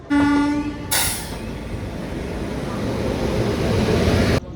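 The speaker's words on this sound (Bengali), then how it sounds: "অবশেষে ছাড়লো আমাদের ট্রেন" A passenger train departing from a station rumbles steadily close by, with a brief horn-like tone at the start and a burst of hissing air, the rolling noise continuing evenly throughout.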